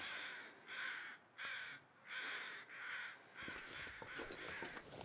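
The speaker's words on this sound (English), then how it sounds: "I hear the birds barking. Do you hear them?" Crows caw in The Long Dark survival game, with five drawn-out harsh calls in steady succession followed by a denser scratchy stretch, moderately distant and with no voices over them.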